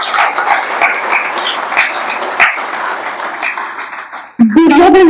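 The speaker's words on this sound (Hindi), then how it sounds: "एक बार तालियां बजाकर मुझे आदेशित करें।" An audience at a Hindi poetry recitation claps together in a dense burst, with voices mixed in, cutting off abruptly as a speaker begins talking.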